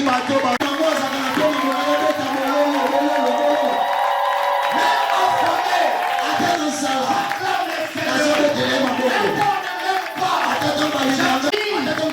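A church congregation at a Sunday service acclaims and cheers, a loud mass of voices shouting and whooping together over a sustained crowd roar that swells and dips throughout.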